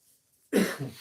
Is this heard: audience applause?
no